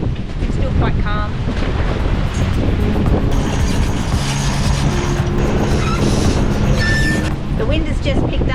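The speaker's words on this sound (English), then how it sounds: "The wind has just picked up to over 25 knots" Strong wind roars steadily across the microphone while waves and chop wash around a sailing boat at sea, with the wind over 25 knots; the loud, continuous rush stays dense throughout with no clear pauses.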